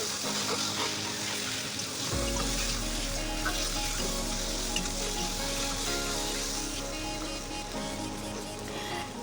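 Potatoes, ground poppy seed paste and green chili frying with onion in a pan give a loud, steady broadband sizzle with occasional stirring clatter throughout.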